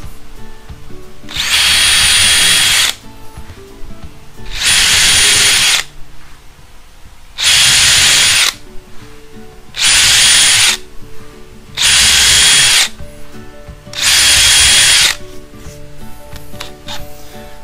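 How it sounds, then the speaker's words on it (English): A power drill whines in six separate bursts of a second or so each, with quieter pauses and handling noises between them. "what I will do is I'll pre-drill"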